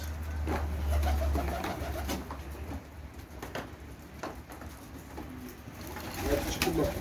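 Pigeons eating feed in a coop: low, soft cooing rumbles repeat close by, with light pecking taps and faint rustling in the background.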